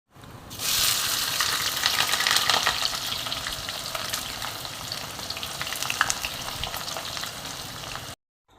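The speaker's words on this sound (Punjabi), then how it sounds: "ਇੱਥੇ ਮੈਂ ਸਟਾਰਟ ਕਰ ਦਿੱਤਾ ਤੜਕਾ ਲਾਉਣਾ ਦਾਲ ਨੂੰ" Hot oil sizzles and crackles steadily as onion and cumin hit the pan to temper dal, a loud frying hiss that slowly settles before stopping.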